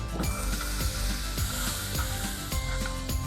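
A stick of butter melts in a pan for Alfredo sauce, giving off a steady, soft sizzle and hiss with light, regular clicking taps underneath.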